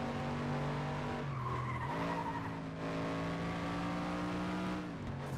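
Race car engines drone steadily with a shifting, wavering tone while tires squeal and skid in the video game FlatOut 2, heard continuously and fairly loud with no one talking.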